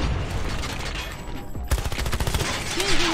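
Rapid gunfire in COD Mobile, loud bursts with an automatic-weapon rattle, a sharp string of close shots in the second half.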